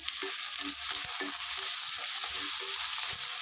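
Onions and green chillies fry in hot oil for a Telugu bottle gourd and dried prawn curry, giving a steady, close sizzle with soft stirring scrapes and clinks throughout and no talking.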